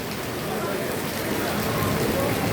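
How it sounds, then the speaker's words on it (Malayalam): Heavy rain pours steadily in a misty hill area, a dense, even hiss of drops drumming on surfaces, loud and close with no break. "പൊരിഞ്ഞ മഴ."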